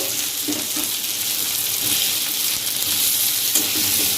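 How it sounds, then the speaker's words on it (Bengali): Potatoes fry with onion and tomato in a pan, giving a steady, loud, close sizzle throughout with occasional soft stirring scrapes and no voices. "আলুগুলো পেঁয়াজ টমেটোর সাথে একটু ভেজে নেব।"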